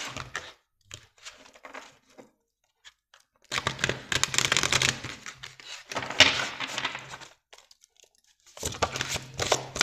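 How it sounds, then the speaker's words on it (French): Cards from an oracle card deck being handled and drawn make crisp, close papery rustles and snaps in several separate bursts with quiet gaps between, and no voice. "Allez, on va prendre une carte de manifestation."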